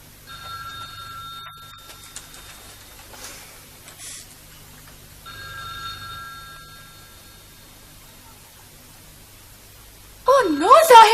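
A telephone rings in a quiet room in a classic PTV drama, with two bursts of bright electronic trilling separated by a pause, and a voice breaking in loudly at the end.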